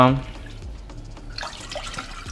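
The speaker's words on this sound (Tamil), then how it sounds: "இப்போ ரெண்டு கப் தண்ணி விட போகிறோம்" Two cups of water pour and splash into a container for a moment, a soft trickling rush after a brief voice at the start.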